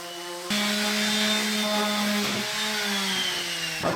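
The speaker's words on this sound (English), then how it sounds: "giving these a quick sand" A power sander starts abruptly and whirs steadily against wood, its motor whine dipping slightly in pitch as pressure changes, close by.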